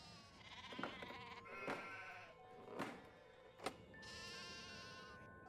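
Repeated sheep bleats from the video game Nancy Drew: Haunting of Castle Malloy, a few short wavering calls spaced apart over a steady background hum, followed by a sustained electronic tone.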